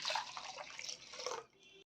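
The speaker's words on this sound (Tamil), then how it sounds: "ஒரு முக்கால் கப் தண்ணி சேர்த்துருக்கேன் இதில் சேர்த்துக்கிறேன்" Water is poured into a mixer grinder jar in a home kitchen while a Tamil curry is prepared, a brief splashing stream that stops abruptly near the end.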